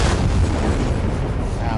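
A DIY grenade goes off in the zombie game Dying Light 2, a loud, dense rumbling boom that fills the whole moment and rolls on without a break.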